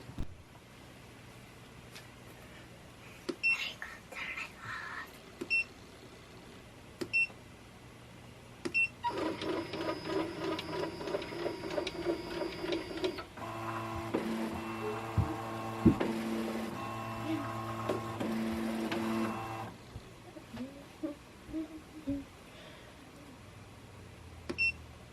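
A Ricoma embroidery machine stitches a Merry Chickmas design with Santa's sleigh onto a chicken towel, giving a steady mechanical whirring and rapid rhythmic needle chatter through the middle of the clip, quieter at the start and end with brief beeps.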